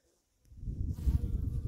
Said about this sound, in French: les petites abeilles qui pollinisent, qui butinent.